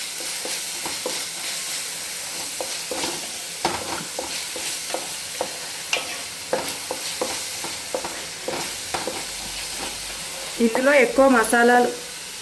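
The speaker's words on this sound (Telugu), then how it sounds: "ఇక్కడ దంచిన అల్లం వెల్లుల్లి పేస్ట్ అయితే వేస్తున్నానండి నేను" Ginger garlic paste frying in oil for a fish curry, with a steady background sizzle, scattered spoon scrapes and stirring clicks, and a louder burst of crackling near the end.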